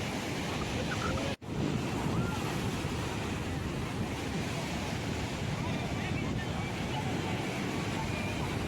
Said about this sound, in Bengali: ঢেউটা এখন অনেকটাই কম